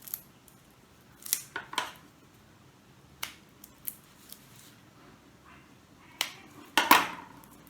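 Scissors snip a tiny notch in fabric while sewing a thermal baby-bottle holder, several crisp close cuts in short bursts with quiet pauses between.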